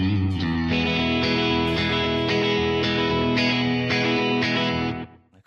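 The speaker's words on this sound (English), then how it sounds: "So if I just play you the two riffs, and I think it'll be pretty recognisable who they are" An electric guitar riff played through slapback echo rings out loud and alone, with sustained, distorted chords and repeating plucked accents for about five seconds before it cuts off.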